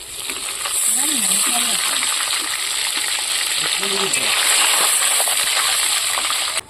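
Bay leaf, whole dried chili and five-spice seeds tempering in hot oil, a loud continuous sizzle and crackle sustained throughout, with a few soft clinks of utensils and no speech.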